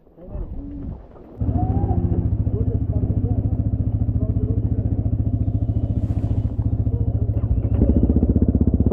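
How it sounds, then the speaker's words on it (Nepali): A motorcycle engine catches and settles into a loud, close, steady pulsing idle after a short rustling start, part of a group ride in the rainy Chandragiri hills, with faint birds in the background. "मान्छेहरू हाम्रो टोलीहरू बाइक स्टार्ट गर्दैछन्"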